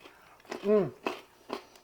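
A crunchy healthy snack is bitten and chewed up close, with a few sharp crunches. A person briefly makes a vocal sound between the bites.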